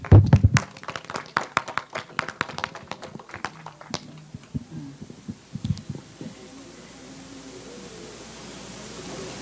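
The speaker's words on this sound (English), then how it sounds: "Let's give them a round of Congratulations. applause." Audience applause at a university event honoring academic officials, a dense burst of many hands clapping loudly at first, then thinning and fading into a quieter room tone.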